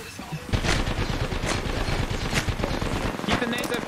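Rapid automatic gunfire from an Apex Legends firefight, dense bursts and single shots crackling close and loud almost continuously, with a player's voice talking over the shooting.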